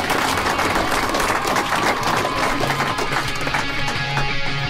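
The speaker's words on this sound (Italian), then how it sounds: "Veramente, applausi." Applause from a studio audience on an Italian radio-TV talk show, a dense steady wash of many hands clapping close by for the whole stretch, with a few faint voices mixed in.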